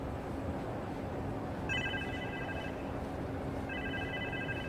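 A phone rings in the Spider-Man 2 video game, sounding two electronic ringtone bursts a couple of seconds apart over a steady, low background hum of game ambience.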